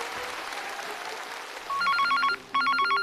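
A telephone rings faintly in a busy room, with two quick bursts of trilling bell tones arriving in the last second and a half after a murmur of background sound.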